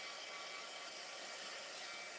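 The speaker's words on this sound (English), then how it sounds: "I'm going to hit it briefly with my heat tool." Steady, faint whooshing hiss of a craft heat tool blowing hot air to dry paint, a constant broadband roar with no change and no voices.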